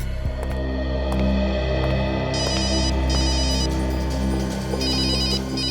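A telephone rings in two bursts of bright, rapidly trilling electronic tones during a scene from the Hindi crime drama CID, heard over a steady low hum and background music with no speech.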